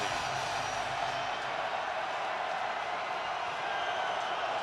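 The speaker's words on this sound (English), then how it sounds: "And now the crowd is going to go crazy" Stadium crowd at a Chicago Bears home NFL game against the Rams, a loud, steady roar of cheering spread across the whole space with no breaks, sustained evenly throughout.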